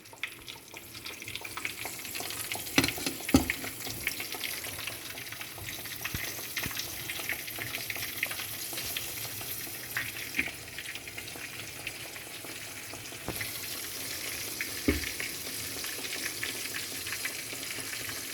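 Steady, crackling sizzle of chicken frying in hot oil, with a few sharper pops and spatters rising above the continuous hiss.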